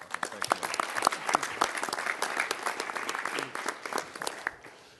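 Audience applauding Mayor Stephanie Rawlings-Blake at a mayors' meeting press conference: steady, fairly close clapping from a sizable crowd, sustained throughout and tapering slightly at the end.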